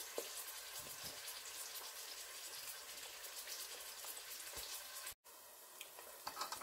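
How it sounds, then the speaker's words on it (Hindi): Two medium onions browning in two spoonfuls of oil give a soft, steady sizzle with a faint watery hiss. It cuts out briefly near the end before resuming quietly. "ये 2 चमचे ऑयल के इसमें मैंने डाल के तो ब्राउन होने के लिए प्याज रख दिया है।"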